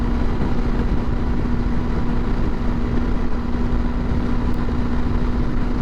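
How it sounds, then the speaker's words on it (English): Honda CRF300L Rally motorcycle engine held at wide open throttle while climbing a hill, a steady, loud, unbroken drone with a constant hum and broad wind-like roar lasting throughout. "Holding doing 71 going up this hill at wide open throttle"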